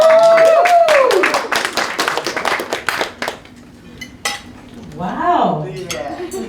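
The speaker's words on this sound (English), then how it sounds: "Big round of applause." Wedding guests clap together in a short burst, mixed with the clink of cutlery and dishes, then the clapping fades and a voice speaks briefly over table noise.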